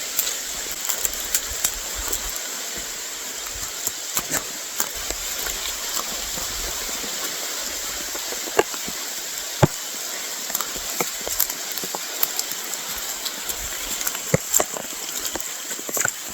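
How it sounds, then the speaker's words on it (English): Steady heavy rain patters and hisses outdoors on a walk along the Devon border, with scattered sharper drops hitting nearby surfaces throughout. "It's pouring down."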